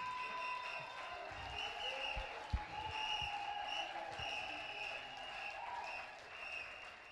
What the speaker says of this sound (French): Kunnen we klappen